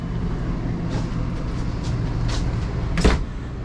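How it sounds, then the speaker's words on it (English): The bathroom door of a small 4x4 Super C motorhome is closed and reopened, giving a few soft latch clicks and one sharper knock over a steady low rumble. "Let's close the door. Let's test it out. So door closed. Open it back up."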